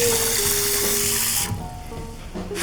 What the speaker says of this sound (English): We're just gonna fill it up with some water.